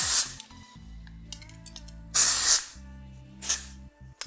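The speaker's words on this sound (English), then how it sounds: "I'm just going to go ahead and spray that through now, through the roots and through the mid-lengths too." An aerosol can of hairspray gives several short, sharp hissing bursts while spraying through the hair roots and mid-lengths during a bridesmaid styling session, close and loud, with quiet gaps between bursts and a faint steady hum underneath.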